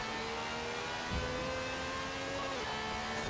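The engine of a Lamborghini Aventador in the racing game Forza Horizon 4 drones loudly and steadily, its pitch shifting slightly as it holds speed, with no talk over it.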